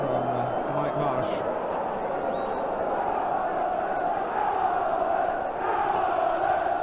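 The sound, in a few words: football crowd at Oldham Athletic v Liverpool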